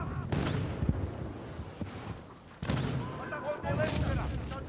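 Gunfire in Medal of Honor multiplayer on the Helmand Valley map on PS3, several bursts of shots and booms at moderate level over a busy game soundscape with brief pauses between volleys.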